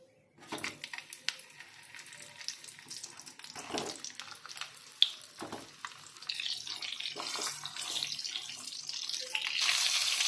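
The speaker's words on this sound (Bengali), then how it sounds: "এটা আমি সর্ষের তেলে করব। তেলে একটু নুন দিয়ে দেবো দিয়ে পটলগুলোকে ভেজে নেব" Pointed gourds frying in salted mustard oil in a home kitchen give off a steady, close sizzle that builds louder and brighter toward the end, with a few clatters and no talking.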